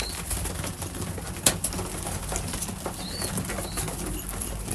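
Racing pigeons feeding in a loft, with soft cooing, a brief wing flap and faint pecking over a steady background hiss, fairly quiet and close.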